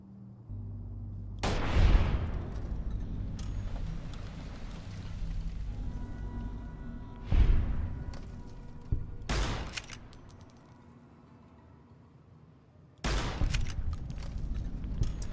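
A rifle in Fallout: New Vegas fires full-power .357 magnum rounds, four sharp, loud reports spaced a few seconds apart, each with a short echoing tail over quiet background.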